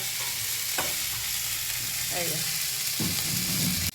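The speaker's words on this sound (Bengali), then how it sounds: "ঝোলের জন্য মাছ ভাজা হচ্ছে" Steady, loud sizzling of fish frying in hot oil for a curry, with a few soft clinks of a utensil stirring in the pan.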